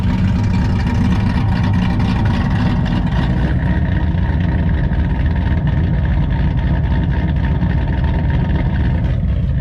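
A cammed LT1 Trans Am engine runs with its exhaust cutouts closed, a steady, loud, deep rumble that holds without pause.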